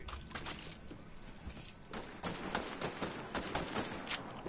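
Gunshots in a video game, quick scattered cracks and short bursts of fire across the whole stretch, fairly faint and busy, with no talk over them.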